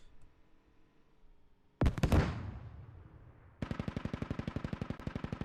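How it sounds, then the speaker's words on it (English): In the video game Squad, a .50 cal machine gun fires from a vehicle turret: a heavy blast with a rolling echo, then a rapid steady stream of loud, evenly spaced shots. "goes to work with that 50 cal before getting shot out of the turret"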